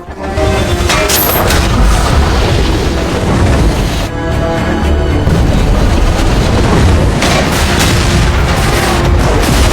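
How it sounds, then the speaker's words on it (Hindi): A loud, continuous roar of booms and crashes fills the scene, dense and sustained like a large explosion with debris rumbling throughout, as a plane explodes in a film. "इस तरह विमान में विस्फोट हुआ।"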